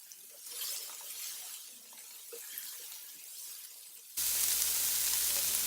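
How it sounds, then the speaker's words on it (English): Diced carrot, onion and celery sizzle in a soup pot as they are stirred, with faint scrapes and clinks. A louder, steady hiss of frying fills the last second and a half. It is close and no one speaks. "we are just going to stir this until they become a little bit translucent"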